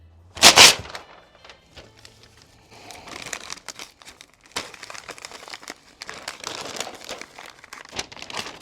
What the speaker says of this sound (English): take some butcher paper and wrap that brisket up